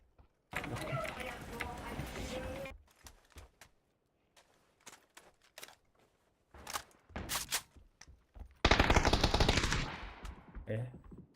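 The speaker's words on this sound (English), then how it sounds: "Second mid, he shot me." Gunfire in the PC battle royale game PUBG: rapid automatic bursts and scattered single shots, loud and close, alternating with quiet gaps, with a long sustained burst near the end.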